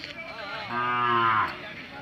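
A Hallikar cow gives one long, rich moo of about a second, close and loud, rising out of faint outdoor background noise on an open village ground.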